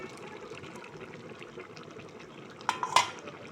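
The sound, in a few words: adding water to rajma curry in a pot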